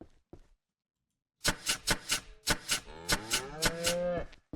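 A cow in a ranch simulator game lets out a long, loud, close moo that rises and holds, preceded by a few sharp clicks and a short pause of silence.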